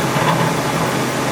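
A Mori Seiki SL-15 CNC turning center spindle runs at around 1,500 RPM as a steady, even machine hum with broad whirring noise and no pauses.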